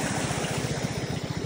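A motorcycle pushing through deep typhoon floodwater on a city sidewalk in Shanghai, with water churning and splashing in a steady low pulsing rhythm close by, no voices.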